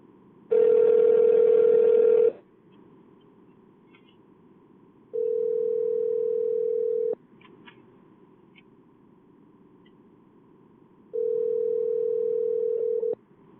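Steady telephone dial tone sounding in three loud bursts of about two seconds each, separated by quiet gaps, as a phone is picked up to make a call.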